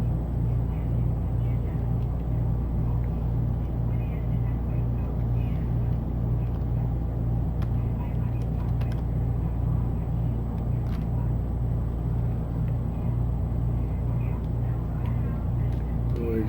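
Four engines of a Fairchild KC-135 tanker running together in a steady, loud low roar and rumble, continuous throughout with no break.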